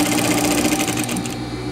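Domestic sewing machine stitching steadily along fabric toward a mitred corner, a fast continuous mechanical whirr, close and loud, slowing and stopping near the end.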